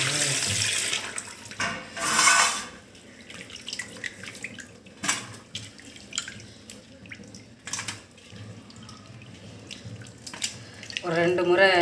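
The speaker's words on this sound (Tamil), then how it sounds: "ஒரு 2 முறை கழுவிட்டு திரும்ப மஞ்சள் பொடி போட்டு திரும்பவும் கழுவணும்." Fish are washed under a running tap, the water gushing in short, splashy bursts that stop and start, with drips and gentle trickling between them nearby.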